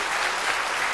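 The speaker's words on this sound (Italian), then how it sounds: "oggi ci godremo questi applausi" Dense, steady audience applause fills the whole second at a TV music show of Sardinian song and dance, many hands clapping together with no voices on top.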